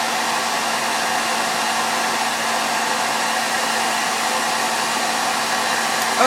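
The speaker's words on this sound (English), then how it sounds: "So normally I would keep the hair dryer going at this point." A hair dryer runs continuously at close range, heating a Jamberry nail wrap applied over a stress ball; a steady, loud blowing whir with a constant motor hum and no talk.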